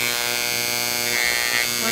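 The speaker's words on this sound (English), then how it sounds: "Here's my engraver, and it might make a bit of noise." An electric engraver buzzing steadily as it signs a name into a sealed surface on a demo piece, a continuous close, even electric hum with no pauses.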